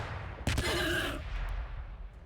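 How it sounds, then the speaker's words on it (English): Grenade launcher volley in Warhammer 40k Battlesector: a sharp burst of several close, loud launcher shots with a brief crackling blast tail, then a low rumbling background. "Grenade launcher. Open fire!"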